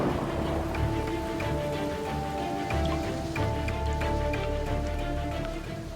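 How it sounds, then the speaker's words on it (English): Heavy storm rain pours steadily onto an open building site, a dense continuous wash with scattered drips and splashes on exposed surfaces, loud and unbroken throughout with no voices. "Rain's just been a pain in the ass."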